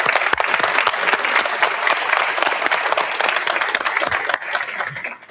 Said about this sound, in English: but please another round of applause for our speakers.